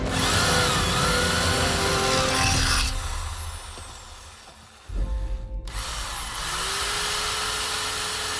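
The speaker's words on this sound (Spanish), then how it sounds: "Podemos observar que este taladro de 750 vatios también funciona sin problemas." A 750-watt electric drill powered by a homemade solar panel whines at high speed outdoors, spinning down briefly mid-clip, then revving back up loud and steady.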